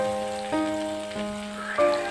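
Cut ridge gourd goes piece by piece into hot mustard oil tempered with black cumin seeds, giving brief bursts of soft sizzling crackle over a steady tonal hum.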